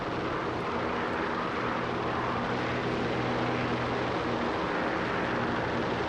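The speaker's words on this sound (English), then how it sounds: "P-38 has amazing upward and rearward visibility, but horrible downward visibility." A P-38 aircraft engine in a flight video game drones as a steady, dense roar with a low hum underneath, unbroken and even in level for the whole stretch.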